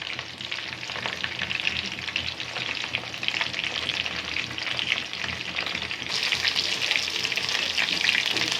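Chicken shashlik pieces fry in a pan with a steady, dense sizzle and occasional stirring clatter, growing slightly louder and brighter toward the end, close and continuous with no talk.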